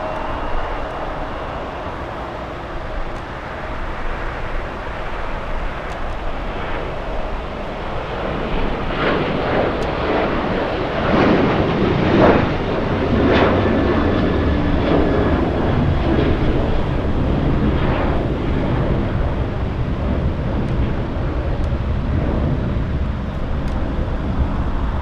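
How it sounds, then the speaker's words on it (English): An American Airlines Boeing 737 takes off at LAX, its engine roar a broad, sustained rumble that swells and holds loud over the whole stretch, with no one talking. "Let's go for the American Airlines 737 takeoff."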